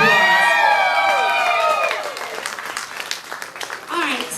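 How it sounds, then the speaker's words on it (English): A burlesque show crowd at Gallery5 in Richmond, Virginia cheers and whoops loudly with high shouts at first, then settles into sustained clapping that carries on through the end. "Give them a round of applause"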